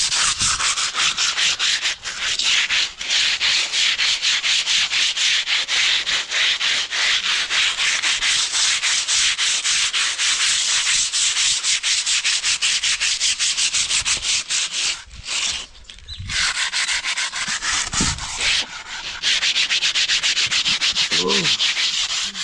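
Continuous loud scrubbing or sanding of a surface being prepared for undercoat and paint, a steady rasping that runs nearly throughout with brief pauses near the end.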